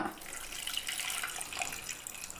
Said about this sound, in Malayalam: ഒരു അരക്കപ്പ് വെള്ളം ഒഴിക്കുക.